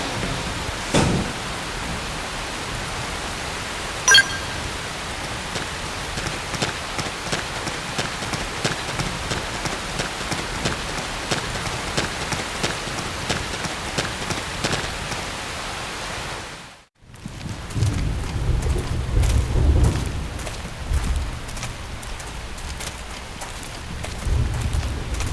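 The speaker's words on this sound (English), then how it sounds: "The rain's starting to let up" Rain and thunder in the video game Xenoblade Chronicles X, a constant hiss of rainfall with occasional drop ticks, broken by a sudden brief silence before a deeper rumbling stretch of thunder and rain resumes.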